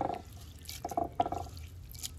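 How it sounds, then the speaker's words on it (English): Sea moss being loosened by hand in a bowl of clean spring water makes soft, close drips and small wet splashes, scattered irregularly and fairly quiet. "now it's been soaking again in clean spring water. Okay, and I'm loosening it up"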